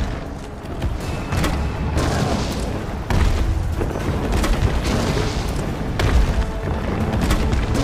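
Resident Evil 3 Remake combat brings heavy booming explosions and dense gunfire layered into a continuous loud rumble, with sharper hits breaking through at intervals.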